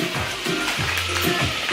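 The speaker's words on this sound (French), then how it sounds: "Et je vais mettre les 200 g de beurre dur dans ma casserole." Hard butter, 200 grams of it, sizzles and crackles as it melts in a saucepan, a dense continuous frying hiss up close with faint stirring movements.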